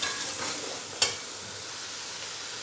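Masala frying in a pan for a spinach and turnip dish, a continuous soft sizzle with one sharp clink of the spoon against the pan, close and quiet.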